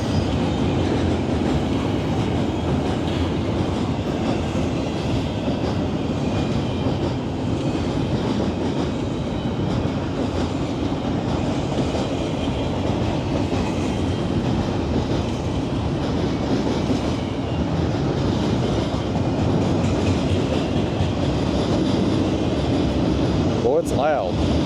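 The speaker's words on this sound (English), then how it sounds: "Try to get me a thumbnail while that train goes by." A train rolls past close by near Sandusky Bay, a loud, steady rumble with rhythmic clickety-clack of wheels sustained throughout, ending with a brief high squeal or horn-like tone.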